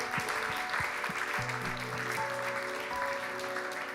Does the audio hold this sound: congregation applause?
yes